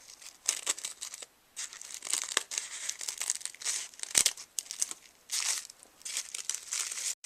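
Dried corn husks for a handmade doll crinkle and rustle as they are trimmed even, a close, dry crackling in short bursts with brief pauses, no voices.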